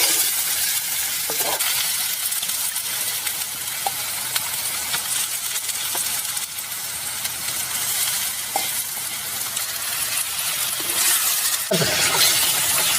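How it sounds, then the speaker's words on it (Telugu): Mutton and tomatoes fry loudly in a pan for a spicy Telangana-style curry, a constant close sizzle broken by occasional stirring clinks. "2 నిమిషాలు అలా వేయించిన తర్వాత మటన్ వేసుకుందాం"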